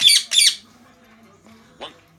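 A loose pet bird at home gives two shrill, quick squawks close by, followed by quiet and then one fainter, shorter call.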